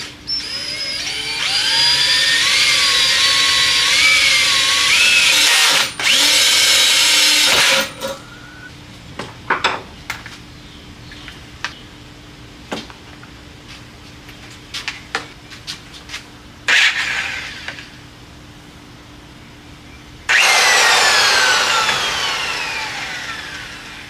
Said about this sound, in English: Got this little DeWalt drill. I don't know if it's gonna drill through though.